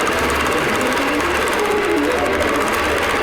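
A sewing machine stitches a quilted moon pattern with a steady, continuous mechanical whir that stays loud and unbroken throughout, with no talking.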